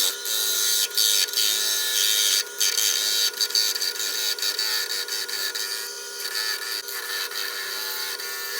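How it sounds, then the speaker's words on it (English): Sandpaper rubs epoxy and wood egg-shaped earrings spinning on a lathe, a continuous close, hissy scratching with brief dips as the paper lifts, and no voices. "I went to my standard go-to, which is sandpaper, and just worked them around to really generate the oval shape"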